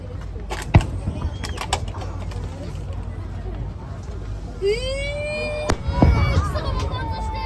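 Harbor fireworks over Muroran, a couple of sharp distant bangs and a rising whistle, heard beneath nearby people talking.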